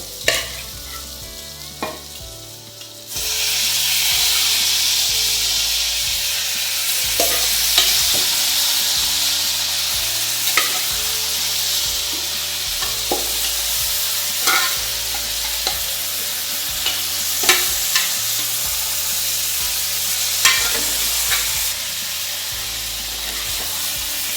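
Beef pieces tossed with masala in a frying pan for beef chukka, a steady loud sizzle with repeated scraping and clinking stirs after a short quieter opening, no talking.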